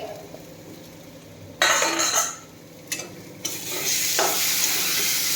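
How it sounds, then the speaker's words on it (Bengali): A ladle stirs cooking rice in a pot, with several scraping, sizzling bursts of stirring separated by quieter pauses and a steady low background hiss. "হাতাটা নিলাম, ভাত নাড়া দেবো ভাতে"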